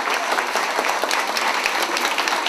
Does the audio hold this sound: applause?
yes